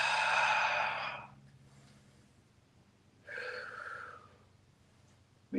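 Deep breathing during a yoga session of shoulder and heart openers: a long, loud exhale, a quiet pause, then a softer second breath.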